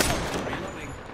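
Rapid gunfire from an Apex Legends match rattles in a dense, close burst, with voices talking over the shots.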